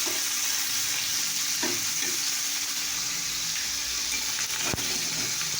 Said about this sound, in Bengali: এটা তেল ভাজা, পেঁয়াজ দিয়ে তেল ভাজা